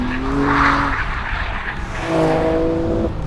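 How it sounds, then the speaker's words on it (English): A 2021 BMW M3 sliding, tires squealing in two drawn-out wavering tones over a loud engine roar, the second squeal rising near the end, with no talking. "There's something about an M car and a slide, it's just so nice."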